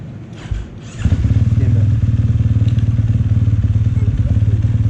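A motocross bike at an indoor track revs up loud and close for a practice start, a steady buzzing engine drone after a brief lull and a thump, holding high revs to the end.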